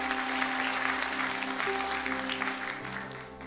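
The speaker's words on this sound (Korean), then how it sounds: "하나님께 감사와 영광의 발로 박수 올리겠습니다." A church congregation at a Sunday worship service claps together in steady, dense applause that fills the room, heard over a held low organ or keyboard drone, with no speech.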